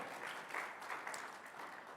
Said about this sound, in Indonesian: yang percaya berikan tepuk tangan